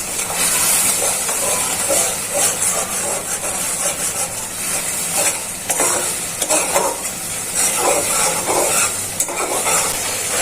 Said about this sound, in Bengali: এখন মশলাটা ভালো করে কষানো হয়ে যায়।